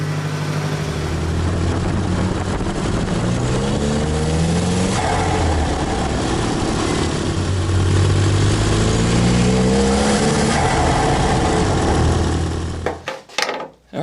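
A Nissan 200SX engine running on a short drive, rising and falling through several gear pulls with clear harmonic sweeps, loud and close, then cutting off abruptly near the end.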